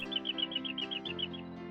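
A Jacky winter, a small brown Australian flycatcher-like robin, sings a quick run of high, clear chirps repeated steadily in a regular series at moderate distance, over a constant low background hum.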